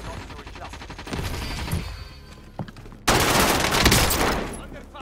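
Video game gunfire in a battle zone under fire, dense rapid automatic bursts that grow louder and fuller partway through, close and sustained, with radio-style voice callouts mixed in.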